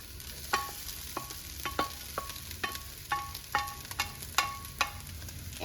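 Potatoes stir-fried with cooked ground turkey and onion in one pan: a steady low sizzle under repeated sharp clacks of a utensil against the pan, roughly two per second, close and fairly loud, with no talking.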